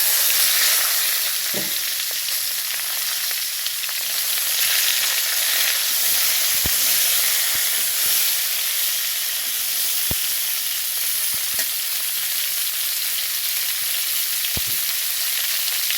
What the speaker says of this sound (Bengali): এখন আমি শসাগুলোকে ভেজে নেব।